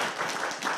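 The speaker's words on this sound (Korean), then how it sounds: "우리 박수 한번" A church congregation at a Korean Sunday service gives a short burst of dense applause that sounds fairly loud and close.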